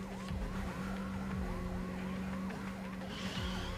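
Police car siren from the video game Neverness To Everness, a loud wailing electronic siren sweeping up and down repeatedly and steadily throughout, layered over a low engine-like hum with some brief noisy bursts.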